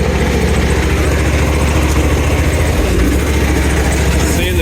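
Engine of an AGT Industrial KRW23 end loader running steadily while driving over rough terrain, a loud continuous low rumble with slight throttle fluctuations throughout.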